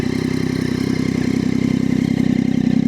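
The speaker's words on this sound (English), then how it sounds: "SC Project exhaust." A motorcycle fitted with an SC Project exhaust runs steadily, a loud, close, throbbing low-pitched rumble with an even pulsing rhythm throughout and no talk.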